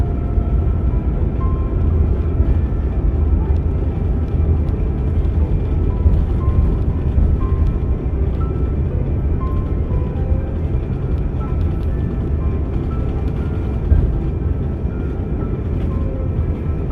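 Steady, even cabin rumble aboard an airplane in flight from Hong Kong to Cebu, a constant low drone that runs unbroken throughout with no talking.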